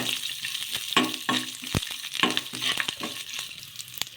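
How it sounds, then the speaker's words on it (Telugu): Green chillies and curry leaves frying in a pan while being stirred: a constant close sizzle broken by repeated sharp scrapes and knocks of the spoon against the pan. "అలాగే కొద్దిగా కరివేపాకు కూడా వేసుకుని ఒకసారి మళ్ళీ బాగా కలిపేసుకోవాలి"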